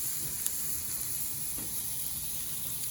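Mushrooms and burger rissoles cook on a hot grill, giving a steady, even sizzle and hiss that runs the whole time with one small tap early on.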